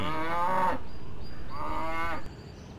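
Cows mooing in a video game, two long drawn-out moos in close succession, loud and near, with a faint high tone in the background and no talk.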